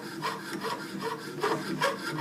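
A hand saw cuts through a sheet of metal for jewelry making, with rhythmic back-and-forth rasping strokes, close and fairly quiet, about six strokes in a couple of seconds.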